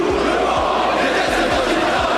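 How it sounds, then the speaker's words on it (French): Large crowd at a Zemmour political rally in Villepinte, chanting hostile slogans at Quotidien journalists, a dense continuous roar of many voices with rhythmic low thumps throughout. "toute la foule ait scandé Quotidien collabo"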